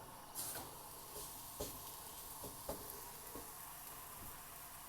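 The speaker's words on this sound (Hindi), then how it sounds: "अब इस पे मैंने घी भी लगा लिया। अब इसमें हम पराठा डाल देंगे।" A paratha fries in ghee on a hot frying pan, giving a quiet, steady sizzle broken by a few faint taps and scrapes.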